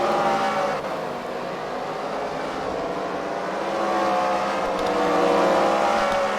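Race cars in a heat race at a track thunder past in a steady, loud engine drone that swells and recedes, with layered revving as they weave through lap traffic.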